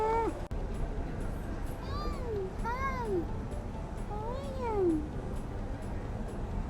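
A calico cat in Turkey meows several times, drawn-out and rising then falling, over steady street background noise; a person briefly says a word.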